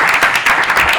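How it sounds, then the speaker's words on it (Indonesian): Brief burst of audience applause during a football quiz show, dense and steady clapping filling the whole moment at close range. "Keren, tepuk tangan dulu untuk Ran."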